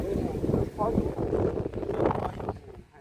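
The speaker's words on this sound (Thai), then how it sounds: "ระวังนะลมมาสิประตู" Wind gusts blow across the microphone outdoors at a rural home, a steady rumbling buffet over the whole stretch, with voices talking underneath.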